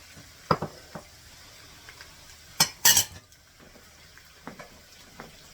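Potatoes and onions fry in a pan with a soft sizzle underneath. A utensil scrapes and clinks against the pan in scattered strokes, with one louder cluster of scraping in the middle and no talking.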